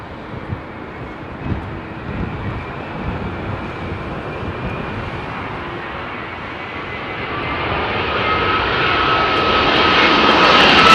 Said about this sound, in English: Looks like Avianca's Dreamliner straight at us.